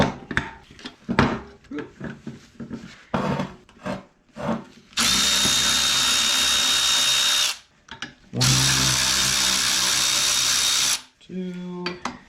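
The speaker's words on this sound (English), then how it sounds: "I should probably get my trick ratchet." Power ratchet spinning bolts on a TDI engine during assembly, with two sustained loud whirring bursts of several seconds each, separated by short pauses and preceded by clicks and handling clatter.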